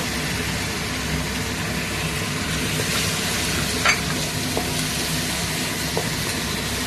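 Tomatoes go into well-fried onions in a pan while cooking pav bhaji at home, giving a steady loud sizzle with some stirring scrapes, close up and continuous, with a few brief clicks and no talking.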